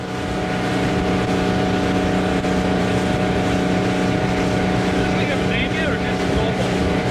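A 1973 Cobalt motorboat engine drones loudly and steadily, a constant low rumble with wind buffeting the microphone throughout.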